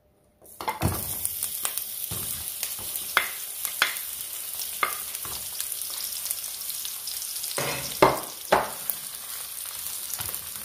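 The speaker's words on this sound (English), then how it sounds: "Takaanga vitunguu vyetu mpaka viwe vya brown." Onions being fried in olive oil in a pot for spiced pilau: after a brief silence a loud hiss of oil starts, with repeated scraping stirs and bursts of crackle, close by and with no voices.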